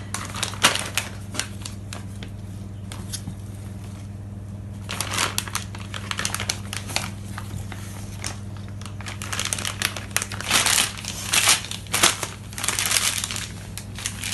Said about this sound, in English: And this is going to go into a piping bag that I prepared earlier.